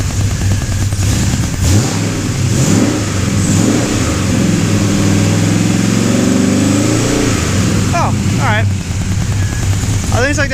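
A third-generation car revs its engine through side-exit dual exhausts, a loud, steady, deep roar lasting throughout with rising and falling revs, heard from close by with no talking over it.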